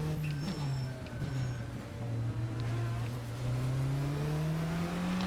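A prototype race car engine in the Project Motor Racing sim, heard from the cockpit, drones steadily with a slowly rising pitch. The engine sound runs continuously with no talk.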